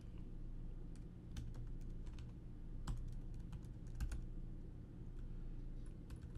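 Steady typing on a computer keyboard during a programming session, continuous light clicks with a few sharper louder keystrokes, fairly close and quiet, no talking.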